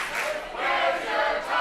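A wrestling crowd chants about the champion's missing title belt, loud rhythmic group phrases rising and falling in repeated waves across the arena.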